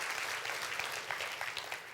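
A church congregation applauding for Jesus during a sermon, fairly faint and steady, a continuous wash of clapping lasting about two seconds.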